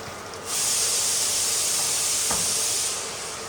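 Chili, turmeric and cumin powders sizzle in hot oil for a Bengali dish of mourala fish with eggplant, a loud steady hiss starting after a brief quiet moment and holding to the end.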